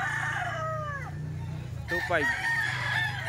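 Rooster crowing close by in a farmyard, with a drawn-out cock-a-doodle-doo repeated over a constant low hum. Someone speaks briefly in the clip.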